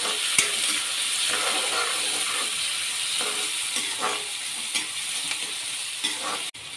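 Chopped large tomato sautéing with dal in a pan for a flat bean kootu: a steady close sizzle and frying hiss with stirring scrapes throughout, no talking.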